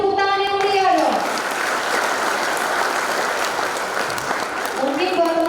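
An audience at a campus orientation event bursts into loud, dense applause that holds steady for several seconds, with a voice speaking over the clapping at the start and again near the end.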